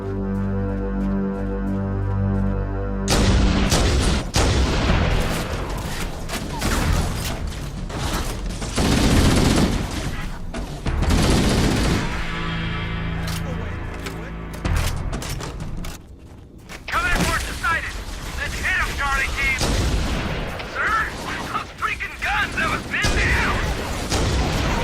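Gunfire erupts in a firefight in the video game Halo: Combat Evolved, with dense bursts of shots and booms that hit hard after a quiet opening, set over music and voices talking.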